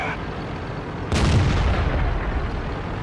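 A tank cannon in World of Tanks fires one deep, heavy boom, loud and close, over a low rumbling battle background, followed by a lingering rumble as it fades.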